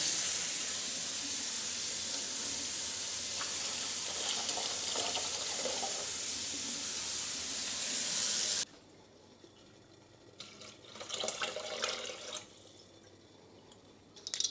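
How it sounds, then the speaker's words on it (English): Hot water pours steadily into a mixture while making shoe blacking, a hissing rush for about eight seconds that stops abruptly, followed by quieter splashes and stirring noises. "Then we need to add quite a lot of hot water."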